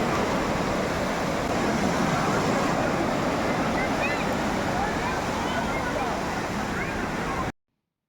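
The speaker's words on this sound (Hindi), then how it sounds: "तो हमारे सामने है अभी बे ऑफ बंगाल।" Sea waves wash steadily onto Golden Beach at Puri on the Bay of Bengal, a loud continuous broadband surf roar that stops abruptly at the end.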